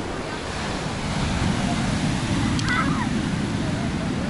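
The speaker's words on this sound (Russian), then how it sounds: "Волна на море, это, конечно, жестко." Storm surf crashing against the battered Sochi seafront, a steady, loud roar of breaking waves with wind rumble throughout and no clear individual crashes.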